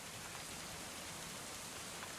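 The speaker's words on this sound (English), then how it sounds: "Ooh, and it's raining." Steady, soft rain falls in the medieval colony-building game Going Medieval, an even hiss of drops on surfaces with no voices or other sounds over it.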